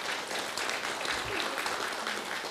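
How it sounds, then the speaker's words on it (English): Steady, dense applause from an audience honoring the panelists at the close of a climate fiction discussion event, a continuous wash of many hands clapping at constant volume. "Let's give a big round of applause to our panelists"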